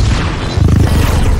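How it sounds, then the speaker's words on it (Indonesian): Several pumpkin bombs explode inside a cube during a film action scene: a loud, dense, low rumbling boom that swells past the midpoint and stays heavy to the end, with no voices. "semua bomnya meledak."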